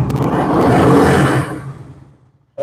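A used motorcycle's engine roars loudly in a second-hand bike showroom, a strong broadband burst that holds for about a second and a half and then dies away, with a brief noise just at the end.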